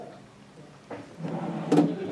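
A drawer on a Coria salon cart station by AGS Beauty slides open or shut: a soft scrape and a quiet rolling slide ending in a light knock, close by and alone.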